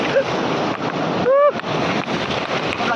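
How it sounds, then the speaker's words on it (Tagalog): Strong ocean waves crash and roar continuously at a beach resort in La Union, a surfing spot, with heavy wind buffeting the microphone and a brief excited vocal cry rising above the surf. "Ang lakas ng alon!"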